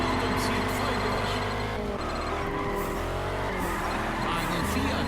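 A car drifts in the racing video game Juiced 2, with tire squeal and a steady engine roar held loud throughout and other cars' engines mixed in.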